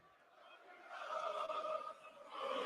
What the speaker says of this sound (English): See, the crowd is lit.